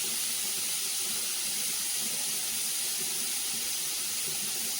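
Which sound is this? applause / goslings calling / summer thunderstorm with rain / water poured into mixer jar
water poured into mixer jar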